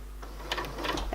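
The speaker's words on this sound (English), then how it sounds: "what you might need to do when you're sewing around the curve is just go slowly and keep turning." A sewing machine stitches slowly around a curved seam, giving a faint, brief run of soft mechanical whirring and ticking against a low background hum.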